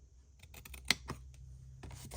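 Scissors cut paper at the folded corners of a handmade vintage-style envelope, giving a few quiet, quick snips and crisp paper clicks close by.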